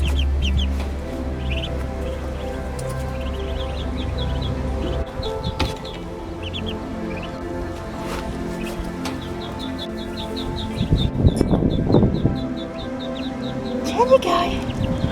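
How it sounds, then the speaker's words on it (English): Small ducks give a string of short, high, repeated calls, quite close, while an adult talks over them throughout and a louder bout of noise comes near the end. "There's two little duckies. Another little ducky."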